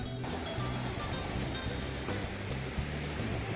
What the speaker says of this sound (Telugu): ఫైనల్ అయితే కాకినాడ బీచ్ వచ్చినాము